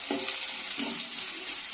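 Onions sizzling in hot oil in a pan for a Dharwad-style bun lapda, a steady close crackle with soft stirring scrapes, no talking.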